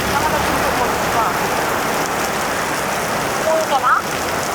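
Heavy rain pours down steadily throughout, a dense, loud broadband hiss with no breaks, and faint voices murmur briefly beneath it.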